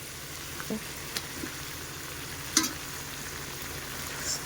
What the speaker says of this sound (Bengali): এবার আমরা দিয়ে দিচ্ছি আদা রসুন লঙ্কা পেস্ট করা।